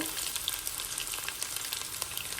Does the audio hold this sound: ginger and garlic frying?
yes